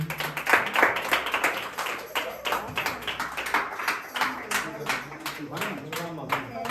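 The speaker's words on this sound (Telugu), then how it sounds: "గట్టిగా చప్పట్లు" A congregation at a church consecration claps in a steady rhythmic beat, many hands close by, while voices talk and call out over the clapping throughout.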